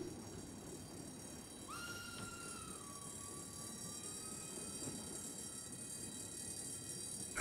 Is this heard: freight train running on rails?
yes